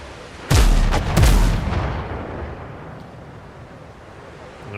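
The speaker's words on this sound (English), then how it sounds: "I think it might be cannon time" Two heavy ship cannon shots in the sailing game Windrose, deep booming blasts about a second apart, each trailing into a long rumbling decay over open water.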